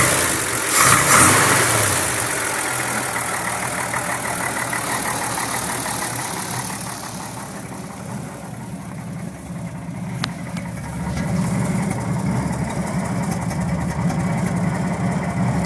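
A 1966 Chevy 292 inline-six with a rebuilt head, oversized valves and modified ignition idles steadily on a cold morning of about 50 degrees, a continuous mid-pitched engine drone with a brief rise partway through and no talking.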